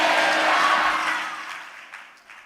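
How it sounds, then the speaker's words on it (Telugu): A church audience clapping loudly: dense, close applause that fills the space, then fades off over a couple of seconds. "చప్పట్లు కొట్టండి గట్టిగా"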